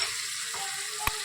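Turmeric, red chilli, garam masala and coriander-cumin powder sizzling in hot oil as tempering for papad curry, a short steady hiss with one sharp clink of a spoon near the end.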